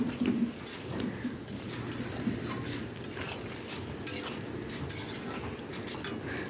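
Doodh potol stirred in a pan, soft scraping and clinking of a spatula against metal over a faint low sizzle, close and steady with no talk.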